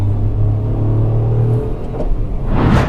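A car's engine on CNG hums with a low, steady drone from inside the cabin, then surges briefly into a rougher rumble near the end; no voices.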